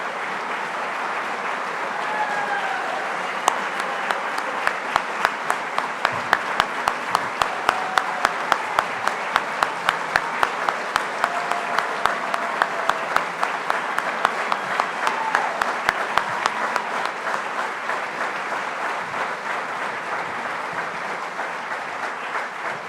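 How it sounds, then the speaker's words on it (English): A crowd gives enthusiastic applause for Senator Tom Cotton at the Nixon Library, a dense, steady sustained clapping lasting about twenty seconds, with a brief rhythmic run of louder unison claps partway through. "So, an enthusiastic crowd."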